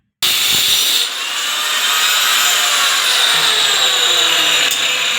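A power cutting machine slices through a pipe during kitchen pipeline work, giving a loud, steady high-pitched grinding whine that runs unbroken from just after the start to the end, with no voices.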